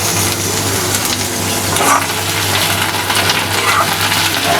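Cut tomatoes and drumsticks sauté in hot oil for a Tamil tamarind curry, giving a loud, steady sizzle and crackle with no one speaking.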